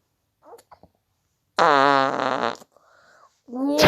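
A single loud, buzzing fart in a Turkish-dubbed prison short film lasts about a second, framed by faint brief sounds before it and short vocal noises after.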